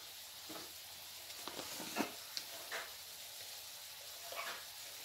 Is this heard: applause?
no